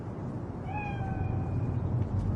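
A cat in Cyberpunk 2077 lets out one clear, drawn-out meow over a steady rumbling game background, with no talking.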